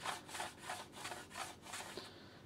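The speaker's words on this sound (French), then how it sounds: "Vous avez des belles tranches d'oignons très très fines" Onions slide over a mandoline blade using the guide, cut into very thin slices in a quick, rhythmic string of soft rasping strokes, quiet and close.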